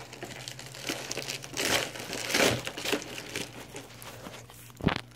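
Plastic packaging around a large 2018 triceratops dinosaur toy crinkles and crackles as it is pulled open by hand, with a steady rustle that swells midway and ends in one sharper crunch. The sound is nearby and fairly quiet, with no talking.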